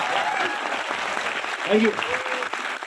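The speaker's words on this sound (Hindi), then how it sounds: "एक बार मेरे और सुरेश जी के लिए ताली बजा लो" Seminar audience clapping for the speakers, a moderate round of applause with a voice briefly speaking over it.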